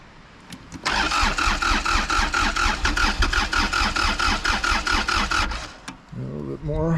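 A tractor's starter cranks the engine in a steady, rhythmic chugging for several seconds, loud and close, while preheating in snow, then cuts off. A voice follows.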